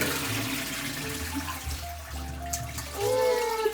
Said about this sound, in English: we got to do the flush test.